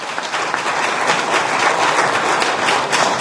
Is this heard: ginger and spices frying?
no